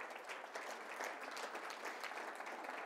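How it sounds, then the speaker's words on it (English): A school ceremony audience claps for Wilson Magnet High School at a Hispanic Heritage Month celebration, a steady, dense round of applause from a moderately sized crowd heard at a distance, fairly quiet, with no talking over it. "Round of applause for Wilson Magnet High School."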